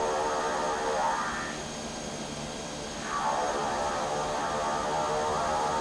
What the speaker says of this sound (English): And you get the nice turboprop sound there.